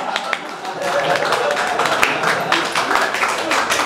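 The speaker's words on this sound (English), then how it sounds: "Big round of applause." A festival audience at the 2017 Parada ponosa pride event in Ljubljana breaks into dense, sustained applause, a steady wash of many hands clapping at even loudness throughout.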